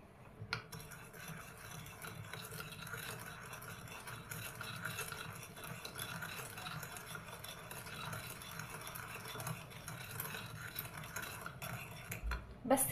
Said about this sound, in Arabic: معلقه من زيت الزيتون، معلقه من زيت الجريسلين، وهنبتدي نقلب كويس